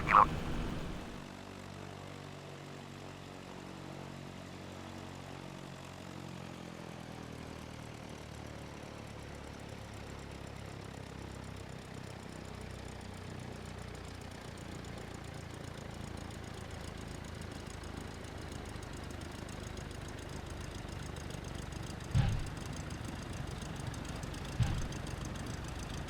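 A Cessna 172 engine in Microsoft Flight Simulator X idles and rolls forward while taxiing, a steady low droning hum that stays fairly quiet throughout, with a couple of brief clicks near the end.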